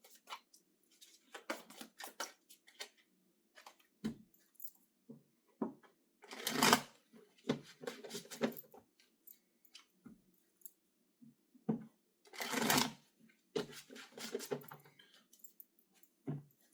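Tarot cards shuffled by hand during a Leo reading, in irregular bursts of riffling and soft slapping with short pauses between, close and fairly quiet, no talking.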